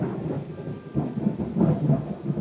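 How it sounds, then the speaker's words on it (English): Thunder rumbles outside during a rainstorm, low and muffled, in heavy rolling swells of moderate loudness with no talking. "Did you guys hear that thunder outside?"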